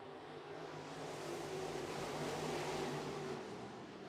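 Dirt track race cars rolling off for a heat race start at a winter crate-class event, a broad steady engine roar that swells and holds, fairly distant with crowd-like wash.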